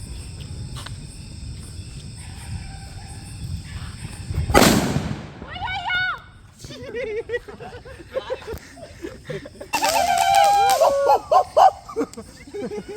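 A small atom bomb firecracker bursts with one sharp loud crack near the middle, set among outdoor night noise, faint chirping and scattered crackle, with a later burst of fizzing sparkle.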